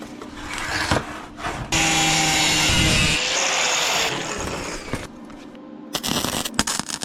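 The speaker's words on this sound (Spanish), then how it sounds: "Hacemos el mismo proceso por el otro lado. Cortamos tapas laterales." A power tool cuts metal side panels for a welding cart in loud, sustained bursts of harsh grinding and whining, separated by brief pauses and clanks of handling.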